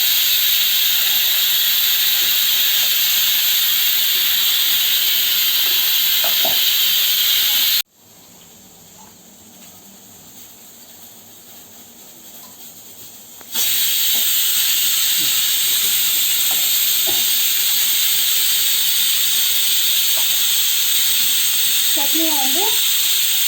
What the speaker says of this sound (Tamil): குக்கரும் அஞ்சு விசில் வந்தாச்சு